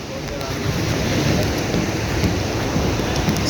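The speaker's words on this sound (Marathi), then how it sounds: "पाऊस यायला लागलाय, पाऊस यायला लागलाय." Steady, dense rain pouring down with a constant broadband hiss, loud and close throughout, with no break in the downpour.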